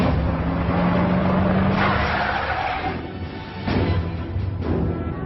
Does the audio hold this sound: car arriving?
yes